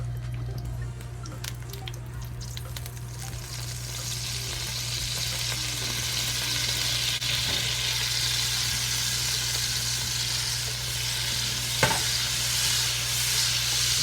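Steak, onion and soy sauce sizzle steadily in a hot pan while being stirred and rolled around, a close continuous frying hiss with occasional soft scrapes and one brief clink near the end.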